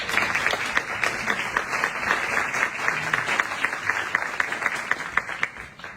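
An audience at a tribute event at the Museo Americano de la Diáspora Cubana in Miami applauds warmly, a dense and steady wash of many hands clapping with a few sharper claps standing out, and no speech over it.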